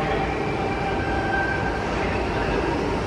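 A Sydney Tangara electric train departs from a platform at Bondi Junction, a steady loud rumble of wheels and motors with a faint rising whine, close by and continuous.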